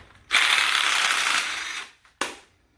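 Ratchet wrench rapidly clicking while loosening 9/16 bolts on a Ford 9-inch rear end, a long steady run of fast ratcheting followed by a brief burst, close and fairly loud with no talking.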